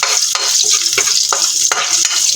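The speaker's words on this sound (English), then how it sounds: "Wait until the garlic gets brown and cooked." Garlic fries in a pan with a loud, close sizzle, broken by several sharp scrapes and clanks as it is stirred, with no voices.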